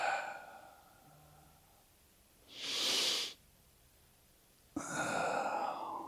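A single forceful breath during a breathing exercise, one hissing rush of air lasting under a second, close and clear between quieter stretches.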